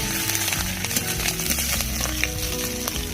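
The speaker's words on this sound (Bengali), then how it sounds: "আদাটাকে তেলে ভালো করে মাখিয়ে নিচ্ছি" Ginger paste with salt stirred and frying in hot oil for a village-style potol aloo dish, a steady close sizzle with scraping spatula strokes throughout and no talking.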